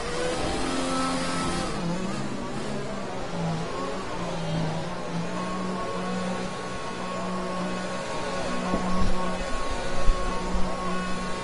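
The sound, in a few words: F1 2020 race car accelerating, from a video game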